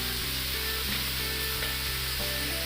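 Whole cumin seeds sizzle and spit in hot oil in a pan while papad is being made, a dense, steady frying hiss that fills the pan without pause, close and fairly loud with no voices over it.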